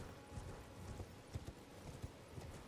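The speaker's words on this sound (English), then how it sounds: "Oh, that's the horse sound." Horse hooves clip-clop at a steady walking pace in the video game Elden Ring, a soft run of muffled thuds set low under quiet ambient game sound.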